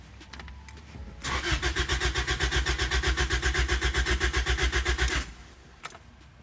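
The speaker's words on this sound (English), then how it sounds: "we're gonna crank it just a little bit more" The turbocharged Toyota Celica engine cranks over with a steady, rapid starter rhythm for about four seconds, close and fairly loud. It then cuts off into near quiet.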